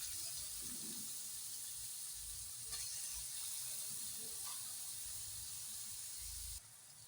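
Carrots fry in ghee with a steady, moderately soft sizzle and hiss, a few faint clinks scattered through, and the sound cuts off sharply near the end.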